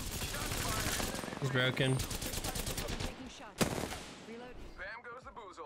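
Bursts of automatic gunfire from a weapon in Apex Legends, dense rapid shots running for several seconds with one sharp louder crack, with players talking over the shooting.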